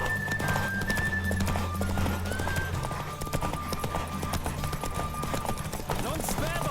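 A horse in The Witcher 3 video game clip-clops at a steady gallop, with a whinny over continuous game ambience and background music.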